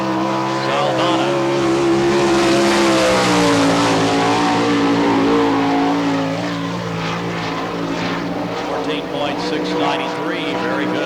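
A sprint car with a Birdie engine and Stealth chassis runs a qualifying lap on the Barberville, Florida dirt speedway, its loud droning engine climbing and sagging in pitch through the corners while an announcer talks over it.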